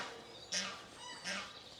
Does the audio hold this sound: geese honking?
yes